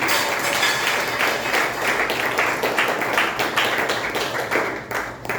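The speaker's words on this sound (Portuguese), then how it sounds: "Palmas para o Senhor Jesus." A church congregation at a Good Friday service breaks into sustained applause, many hands clapping densely and continuously with a steady rhythmic pulse, loud and close.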